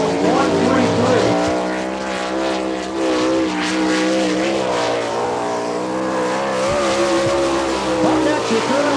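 A 410 sprint car screams around the Attica, Ohio track during an All Star Circuit of Champions qualifying lap, its high engine note holding loud and steady with slight pitch swings, while an announcer talks over it.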